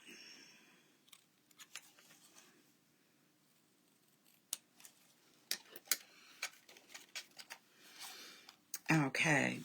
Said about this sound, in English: Just going to cut a little bit of it off.